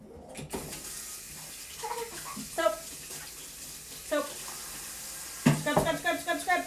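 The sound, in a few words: tap water running while rinsing soap off hands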